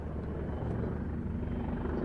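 A helicopter performs a pedal turn at an evening air show, its rotor and engine roar sounding as a steady, loud, continuous drone with no voices.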